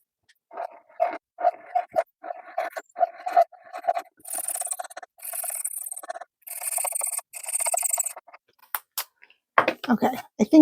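A pet dog whimpers and whines in a long run of short, repeated cries with high squeaky bursts, close and fairly loud, with brief rustling in between.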